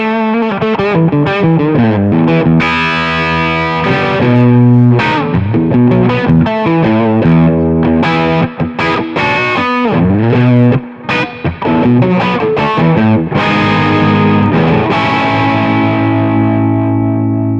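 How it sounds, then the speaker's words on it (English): An electric guitar plays a dense, sustained lead line on an amp's lead channel, boosted by a Hum Bolt preamp pedal. It sounds loud, distorted and compressed, with chorus and reverb, and plays alone for about eighteen seconds without any talk. "Let's put that lead channel on, then I'll employ the hum bolt, and you can see how much lift you get from that preamp and the compression."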